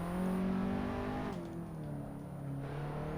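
An Alfa Romeo QV Launch Edition road car, an automatic, runs a hot lap on a track. The engine drones loudly and steadily, then eases off and settles to a lower hum as the car trail-brakes into a corner.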